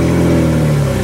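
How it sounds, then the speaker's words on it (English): A small truck drives around a cul-de-sac on a test drive, its engine a loud, steady close hum for about a second. "Let's take this for a little test drive down around the cul-de-sac here."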